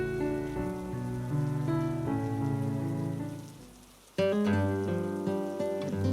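Steady rain falls on a surface in a quiet house, a constant patter under soft background music that briefly drops away before returning.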